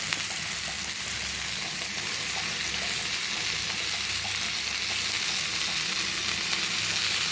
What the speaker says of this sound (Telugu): చూడండి, చక్కగా వేగిపోయాయి కదా.